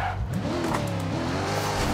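A heavy 7,000-pound car from the G-Shock car pack in Forza Horizon 2 brakes hard, its tires squealing loudly over a steady, shifting engine drone, close and continuous with no talk.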